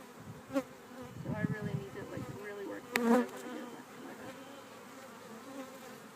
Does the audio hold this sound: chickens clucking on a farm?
no